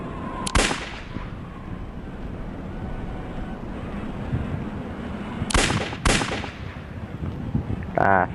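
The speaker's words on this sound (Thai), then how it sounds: "ยิงเป้านะครับ ฝึกยิงเป้า" Gunshots at target shooting practice, a few loud sharp cracks spaced seconds apart over a low rumbling background, with a faint voice in the gaps.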